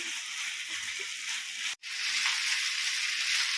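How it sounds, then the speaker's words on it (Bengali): Chicken frying in a pan with ginger-garlic paste and onion gives a steady, close, loud sizzle throughout, with one brief break near the middle before the crackle resumes. No one speaks. "চিকেনটা একটু ভালো মতো আদা রসুনের পেস্ট আর পেঁয়াজের সাথে ভালো করে ভাজা করে নিতে হবে"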